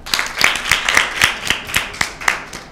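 Sparse audience clapping at a Lent-season Bible quiz, about ten distinct claps in a slow uneven rhythm, close and fairly loud, with no one speaking.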